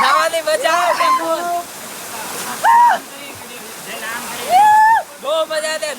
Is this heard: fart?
no